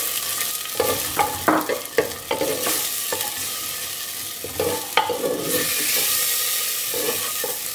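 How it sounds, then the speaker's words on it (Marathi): Chopped tomatoes sizzle in a hot pan for a Goan prawn curry, with a spoon stirring and scraping in irregular bursts over a steady close frying hiss. "आमी तितून टोमॅटोज घालया. आनी हें सॉटे करुया."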